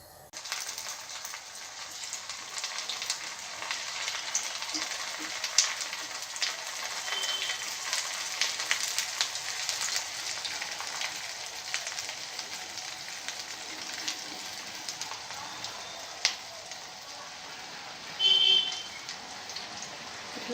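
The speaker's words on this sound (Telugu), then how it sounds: "ఆ లోపు మనం ఈ కోవా ఉండలు నూనెలో వేయించుకుందాం." Khoa jamun balls fry in hot oil with a dense, steady sizzle and crackle, like light rain, that holds for the whole stretch with one brief louder burst near the end and no talking.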